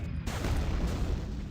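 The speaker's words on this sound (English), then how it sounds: "those are really cool explosions." Booming explosions in the PC shooter Quake II RTX, a dense continuous roar of low rumbling blasts that stays loud and close throughout, with no talking.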